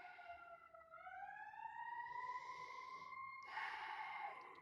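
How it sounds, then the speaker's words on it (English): An ambulance siren sounds outdoors at a distance, with a slow wailing tone sweeping up and down and then a sharper burst, fairly faint over a low background. "I don't know if you can hear the siren out there"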